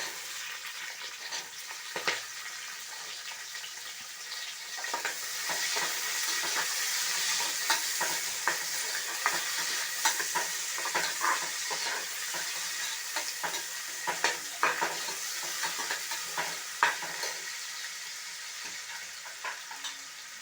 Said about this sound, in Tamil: இது கொஞ்சம் பொரிஞ்சதும் வெங்காயம் சேர்த்துக்கலாம் அது பொரிஞ்சுடுத்து இப்போ வெங்காயம் போடுவேன்